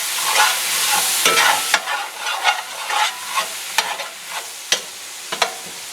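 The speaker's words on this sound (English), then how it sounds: "Give it a good mix." Onions and sauce stirred in a hot pan for braised beef and noodles, with a steady sizzle under repeated scraping strokes of a utensil, close and fairly loud, without talk.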